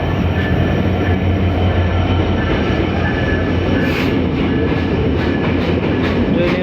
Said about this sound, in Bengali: এই চলে এসেছে ট্রেন